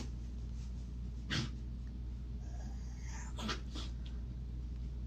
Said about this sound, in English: It's my other dog, Addie, gacking and choking on her own spit.